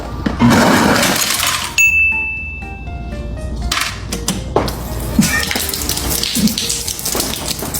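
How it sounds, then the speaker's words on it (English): A refrigerator door dispenser runs, water pouring in a hiss followed by ice cubes clattering and clanking into a cup, loud and close, with no talk. "this fridge, and it's like, it's a typical water, and ice dispenser, right?"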